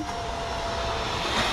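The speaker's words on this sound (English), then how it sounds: "vacuum up any loose particles" A vacuum cleaner runs steadily, close and loud, sucking up loose particles around the engine of a 2010 Ford Edge during a valve cover gasket replacement, a constant roaring whoosh with a slight rise near the end.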